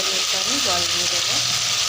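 Water poured into coriander leaf paste frying in a pan sets off a loud, steady hiss and sizzle close by, with faint stirring sounds underneath.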